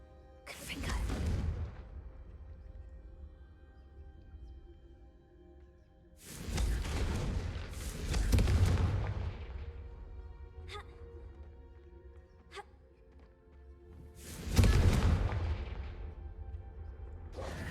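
Spell blasts from the Confringo fire curse in Hogwarts Legacy: three loud explosive booms with whooshing tails, spaced several seconds apart, over low game ambience.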